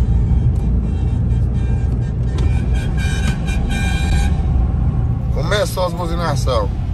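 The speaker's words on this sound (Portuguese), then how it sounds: "Começou as buzinações." Several horn toots sound in a row amid steady traffic rumble, followed by a person speaking near the end.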